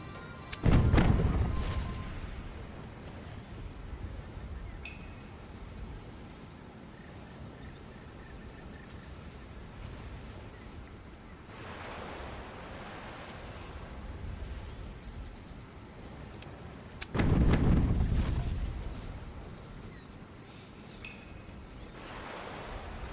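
Ship cannons firing in the pirate video game Tortuga A Pirate's Tale: two heavy booming blasts about fifteen seconds apart, each followed by a rumbling decay, with faint clinks and quiet game ambience in between.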